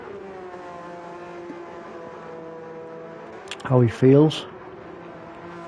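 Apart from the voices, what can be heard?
racing cars in a racing video game league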